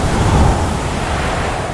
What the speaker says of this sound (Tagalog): nararanasan ang pinakamalakas na hangin at ulan na kayang magdulot